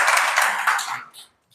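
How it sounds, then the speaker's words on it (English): Brief applause from a seminar audience, a broad wash of clapping that holds for about a second and then quickly dies away into silence. "Let's give a round of applause for that question."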